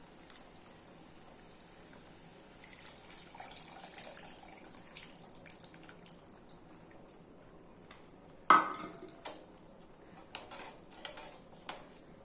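Tamarind water is poured into a simmering curry in a home kitchen, a quiet trickle of liquid followed by a sharp metallic clank and several lighter utensil clinks against the pot.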